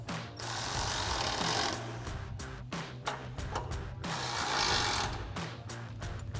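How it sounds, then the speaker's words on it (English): A ratchet wrench with a 13mm socket tightens two bracket bolts on a Jeep Gladiator JT fender flare install, close rapid clicking in two long bursts with brief pauses between, no talk. "Next, we can tighten down the two bolts on our brackets with a 13mm socket."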